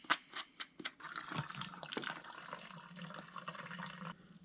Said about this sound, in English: We gotta filter some more water.